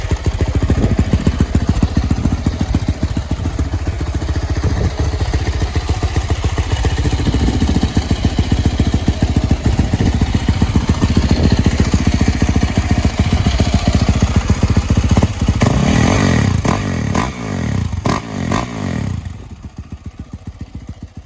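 A motorcycle engine revs repeatedly, first through a stock exhaust and then an FMF PowerCore 4, a loud close rumble with rising and falling throttle bursts and clattering before it cuts to quieter idle near the end.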